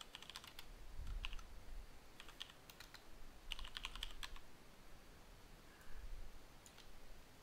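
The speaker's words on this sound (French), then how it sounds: "j'écris sur mon clavier" Someone types on a computer keyboard in quick, irregular bursts of light key clicks, close and fairly quiet over a soft background hiss.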